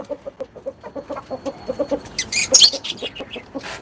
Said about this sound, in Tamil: இது வந்து கைராளி கோழி சேவல் இது